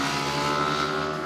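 A 2023 Yamaha R125 motorcycle's Euro 5 125cc engine is worked hard at high revs, giving a sustained, smooth, tonal whine that holds steady and close.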